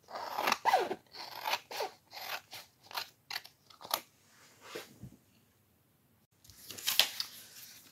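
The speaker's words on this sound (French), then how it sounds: "je continue tranquillement à découper tous les papiers" Scissors snip through papers for a junk journal in a quick series of crisp close cuts, a pause of near silence, then a final rustling burst of paper handling.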